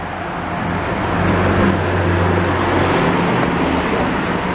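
A scrap truck passes along Rue St Antoine in Montreal's St Henri borough, followed by a BMW hardtop. Steady, fairly loud traffic rumble with a low engine drone runs through the whole stretch, and no one speaks.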